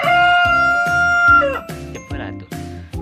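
Chickens in a nylon-net pen cluck and call close by in a series of sharp bursts, with a sustained crowing tone early on.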